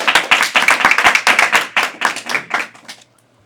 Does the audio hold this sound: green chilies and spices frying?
no